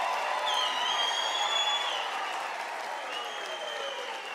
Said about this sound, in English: Can you give them a round of applause, Mkhulukwane?